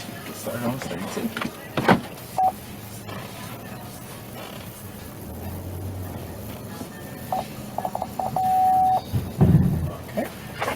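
A steady electronic beep sounds for about a second amid low vehicle rumble, with brief shorter beeps before it and a thump afterward.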